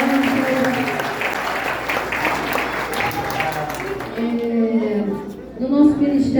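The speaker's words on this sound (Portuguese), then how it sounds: "uma salva de palmas para o nosso pastor" A church congregation applauds its pastor in a sustained round of clapping, with voices and some tonal sound mixed in beneath it, fading somewhat toward the end.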